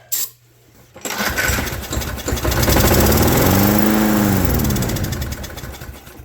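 A Craftsman Platinum lawn mower engine coughs to life on a shot of starting fluid, running loudly up close for a few seconds with a rising and falling whine before it dies back down.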